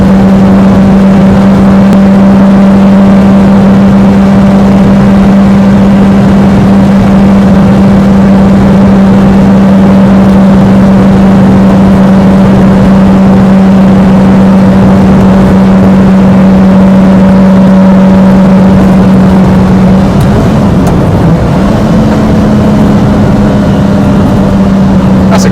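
Heard from inside a Lamborghini Miura, the Italian supercar's engine holds a loud, steady humming drone for a long stretch, then its pitch wavers and climbs toward the end as it accelerates.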